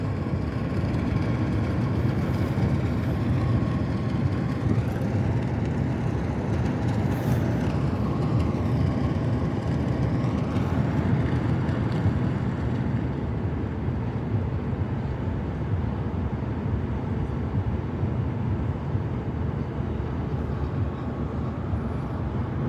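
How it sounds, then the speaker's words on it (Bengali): Two large ships departing Barcelona port together, a deep steady engine rumble and low drone with a faint rising whine, continuous and moderately loud, no talking. "এই জাহাজটাও এখন ছাড়তেছে একসাথে দুটি জাহাজ ছাড়তেছে"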